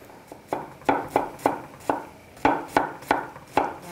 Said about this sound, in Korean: 양파를 다져 보도록 하겠습니다.